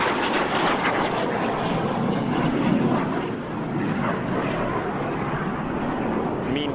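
Frecce Tricolori aerobatic jets roar past at an air show, a dense, sustained broadband engine rush that swells slightly and holds steady throughout, with a commentator's voice faintly under it.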